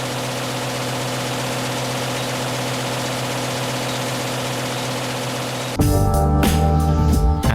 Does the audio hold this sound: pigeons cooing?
no